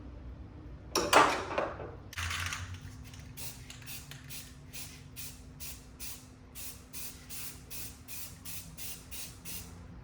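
Aerosol spray paint hisses in a long burst and then repeated short, evenly spaced sprays onto a car being repainted at home, with a headlight covered by tissue, close and steady under a low constant hum.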